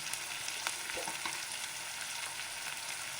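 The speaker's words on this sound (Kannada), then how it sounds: "ಈರುಳ್ಳಿ ಸ್ವಲ್ಪ ಫ್ರೈ ಆಗಬೇಕು. ಮೀಡಿಯಮ್ ಉರಿನೇ ಇಟ್ಕೊಳ್ಳಿ." Onions fry on medium heat in a pan for a potato palya, giving a steady broadband sizzle with a few soft stirring clicks, close and continuous, with no talking.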